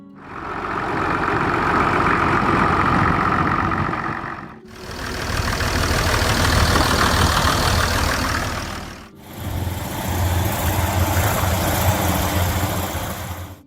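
Case 930 Comfort King tractor engine running steadily and loud in three continuous stretches separated by brief dips, a dense mid-range rumble with no talk.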